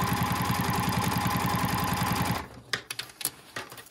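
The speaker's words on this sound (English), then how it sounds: "And now we can sew all the way down this long, short side." A sewing machine runs close up, stitching a seam on a fabric bow tie with a rapid, even rhythmic whirr, then stops abruptly halfway through and leaves a few faint handling clicks.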